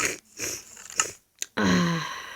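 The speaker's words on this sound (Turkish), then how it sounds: "burnumu çektim ve hazırım" Someone sniffs, drawing air sharply up through the nose in a few quick pulls close to the microphone.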